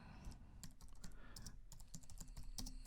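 Keys clatter on a computer keyboard as text is typed, a quick irregular run of light clicks heard close and alone at low volume.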